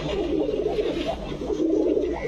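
Imported pigeons of the Budapest, Kaldom, Chila and Babra breeds coo in a pigeon shop, with soft, overlapping low warbling calls that continue throughout at close range.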